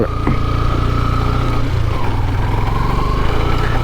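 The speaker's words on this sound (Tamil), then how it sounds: "செயின் பயங்கர சத்தம் போடுது" Loud, continuous mechanical rattling from a loose motorcycle chain over a droning motorcycle engine, steady throughout with no voices.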